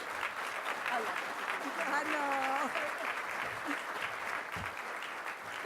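An audience at a policy event applauds in a dense, continuous round of clapping, moderately loud, while a voice briefly speaks over it.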